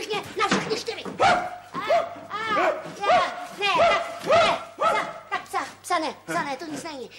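A person imitates a dog in a 1976 Czech television film, voicing a rapid series of barks, yips and whimpers in uneven bursts, close and fairly loud, with no other sounds between them.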